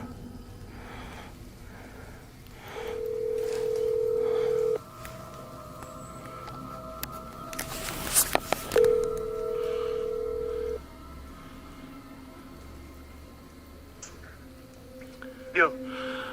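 Phone call ringback tone sounding in two long steady beeps, the first near the start and the second a few seconds later, with rustling, breathing and a brief sharp noise in between.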